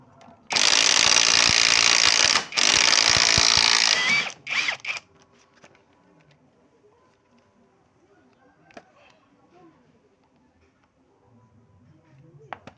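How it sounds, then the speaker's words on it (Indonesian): A ratchet clicks rapidly in two long bursts, close and loud, as chassis bolts come off a scooter with worn chassis bushings, followed by short clanks and then near silence. "untuk langkah awal kita copot di bagian baut sasisnya."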